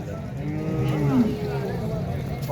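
Cows moo at a busy cattle market, one drawn-out low moo rising and falling near the middle over a steady murmur of crowd background.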